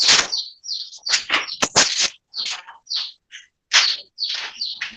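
Bright, rapid bird chirps in quick clustered bursts with brief pauses between, close and clear with no other sounds around them.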